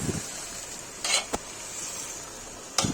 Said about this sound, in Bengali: আস্তে আস্তে করে নাড়তে হবে